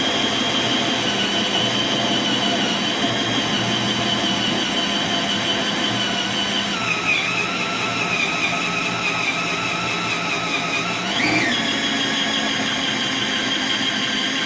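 A power tool cuts a 1 3/4 inch hole through the plastic hull of a Pelican Trailblazer 100 kayak, giving a loud, steady high whine with a sharp pitch shift near the end, alone without talk.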